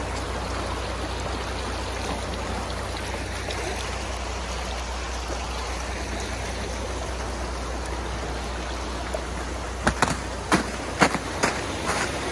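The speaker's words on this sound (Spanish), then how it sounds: "Estamos dentro del río ya. Y así se ve la corriente." Steady broadband rush of a river current flowing in a snowy landscape, continuous and close, with a few brief sharp knocks near the end.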